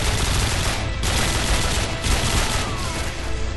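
Gunfire rings out in Call of Duty MW2, where sniper rifles are in use, as loud continuous shooting with sharper cracks standing out about every second.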